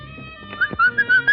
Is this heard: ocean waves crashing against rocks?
no